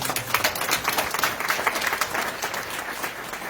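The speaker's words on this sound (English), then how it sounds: "Give them a big round of applause" A crowd at a fundraising event breaks into a big round of applause, a dense, steady wash of many hands clapping at once, with no talking over it.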